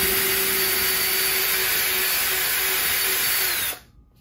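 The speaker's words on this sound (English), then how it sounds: "So I'm gonna pre-drill the hole and we're gonna put in the drywall screw." Power drill with a 1/4 inch bit pre-drilling a hole for a drywall screw for a guitar wall mount, a steady high whine that runs continuously, then stops abruptly.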